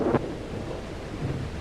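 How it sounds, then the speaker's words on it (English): Thunder and heavy storm rumble inside an old house, a sharp crack early on followed by a steady low roar of rain and wind that persists without speech. "Storm's just as bad as ever, isn't it? Worse."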